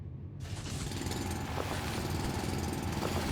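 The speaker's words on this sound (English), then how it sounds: "Let's drill." A drilling machine in the factory game Foundry runs steadily, a dense mechanical grinding rumble that kicks in after a brief quiet start and continues loud and unbroken.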